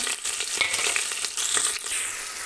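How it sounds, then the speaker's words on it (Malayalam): Sliced onion hitting hot coconut oil in a pressure cooker, producing a loud, steady crackling sizzle with bursts of stirring throughout. "ഇപ്പം നമ്മൾ അരിഞ്ഞ് വെച്ചിരിക്കുന്ന സവോള അതിലേക്ക് ഇട്ട് കൊടുക്കുക"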